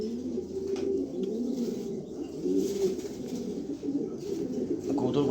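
Red checker pigeons, a cock and a hen, coo in low, rolling murmurs that repeat steadily and close by, with a faint bit of wing movement now and then.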